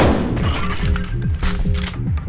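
A shotgun fires in the video game Buckshot Roulette: a loud, close blast with a rumbling, booming tail that rolls on for a couple of seconds.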